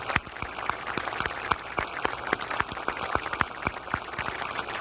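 Convention audience applauding, a dense steady wash of many hands clapping with sharp individual claps standing out, moderately loud and continuous throughout, no talking.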